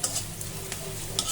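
Onions and chilies frying in a pan, a constant close sizzle of hot oil with a few brief scraping stirs of a spatula, and no speech over it.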